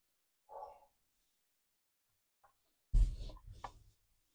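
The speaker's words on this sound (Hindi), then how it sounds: "कुत्ते की आवाज को अवॉइड कीजिएगा।" A dog barks once briefly at a distance, and then a louder dull thump and rustle follow in an otherwise quiet indoor room.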